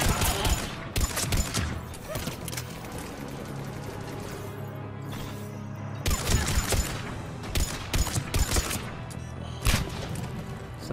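Gunfire from a Mass Effect 3 firefight: bursts of rapid weapon fire come in clusters, with short gaps between them, alongside someone speaking German.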